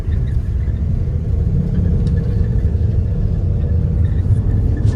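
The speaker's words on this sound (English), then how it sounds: "Back on a minibus again." Inside a minibus heading to Puerto Princesa, the engine rumbles low and steady, with continuous road noise and a few faint rattles throughout.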